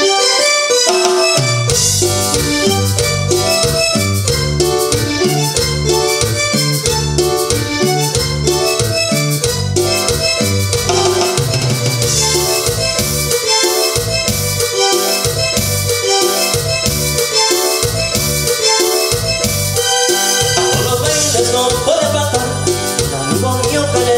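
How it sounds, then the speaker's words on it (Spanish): A Korg PA-700 arranger keyboard plays a programmed cumbia rhythm, steady and loud, with bass, percussion and melodic parts filling the whole stretch without pauses and with no voices over it. "Y para esta canción vamos a usar aquí el ritmo del Korg PA-700,"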